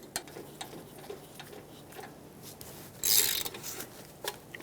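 A ratchet clicks in quick repeated bursts while snugging the brake caliper slide pin bolts on a Dodge Durango's rear brakes, close by, with a louder metallic rattle partway through.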